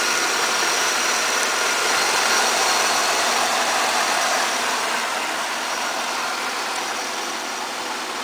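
A 1998 Oldsmobile LSS with a supercharged 3800 engine runs at a steady idle, a continuous even hum and whir held close with no change in pitch.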